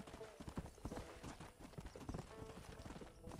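Horse hooves clip-clopping in a steady galloping rhythm in the Western video game Red Dead, with busy overlapping thuds and some game noise over the beat.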